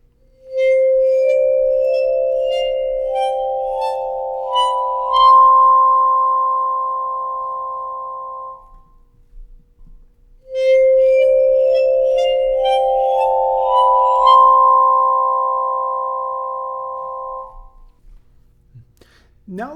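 Vibraphone bars bowed with a bow ring out in two long, sustained glassy tones, each swelling in and holding for several seconds before fading, with a brief gap between them.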